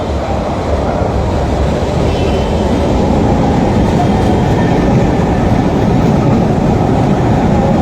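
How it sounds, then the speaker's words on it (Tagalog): A train pulls into a Manila rail station, its loud steady rumble and rolling clatter filling the platform throughout, with faint voices mixed in. "Nandiyan na yung train."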